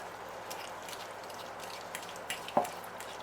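Minced garlic being stirred and mixed into ingredients in a bowl, with soft scraping and squishing and a small clink near the end, quiet and close with no talk.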